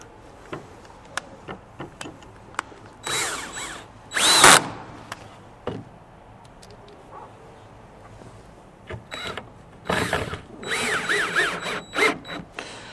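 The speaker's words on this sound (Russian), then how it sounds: "И прикручиваем наличник." Power screwdriver driving screws into trim boards over fiber cement siding, two or three short whirring bursts with quieter pauses between, close and loud.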